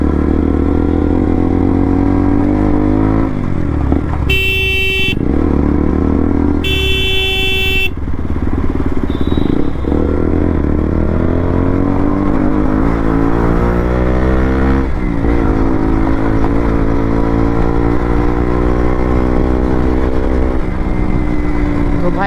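A motorcycle rumbles along a rough, badly broken road under an overbridge at around 50-60, its engine droning loudly and steadily with rising and falling pitch, and two sharp horn blasts cut in early on.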